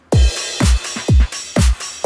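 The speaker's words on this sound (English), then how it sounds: "The beat, the drums itself, especially for the drop section, sound like this." Punchy dance beat for a remix drop: heavy kick drums hitting roughly every half second with bright crashy highs and deep sub thumps, loud and steady, no voices.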